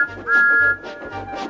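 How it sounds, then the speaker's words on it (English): Thomas the Tank Engine's whistle gives three short, high, clear peeps in an even rhythm, close and fairly loud, with no voices over it. "and he whistled. Peep, peep,"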